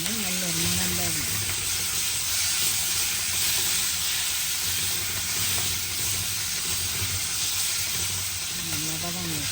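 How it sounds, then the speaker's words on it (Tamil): Curry leaves fry in oil for a fish curry, making a dense hiss and crackle close to the mic, while a voice speaks briefly at the start and again at the end. "கருவேப்பிலையும் சேர்ந்து வதங்கினோம்னா நல்ல ஒரு மணம் வரும்."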